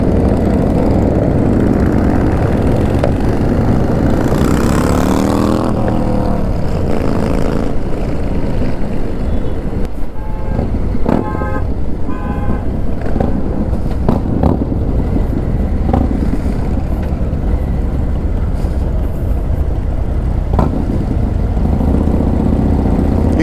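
Several motorcycles, among them a Harley-Davidson Lowrider S, a Dyna and a Ninja, rumble along together on a group ride, their engines steady and loud throughout with brief revving swells.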